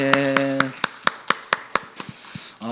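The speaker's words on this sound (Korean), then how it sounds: "하나님께 영광의 박수 올려드리겠습니다" At the close of a Korean Wednesday church service, the congregation claps in glory to God; a series of distinct, evenly spaced claps rings out sharply over a short sustained tone, then tapers into softer, scattered claps.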